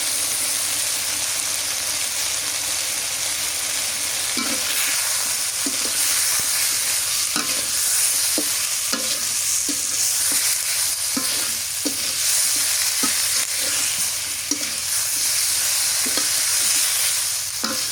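Ginger and onion fry in a hot pan with a steady, loud sizzle, while a spoon scrapes and stirs in irregular clacks through the middle and end.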